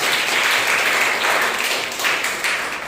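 A Sunday morning church congregation claps loudly in welcome, a thick, continuous burst of applause that stays full and even from start to finish.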